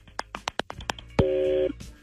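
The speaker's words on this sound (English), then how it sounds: "We're making the phone call right now." Telephone call tone heard as a call is placed during a radio show segment: a steady two-tone ring burst of about half a second follows several short clicks and taps, fairly close and clear with no voices.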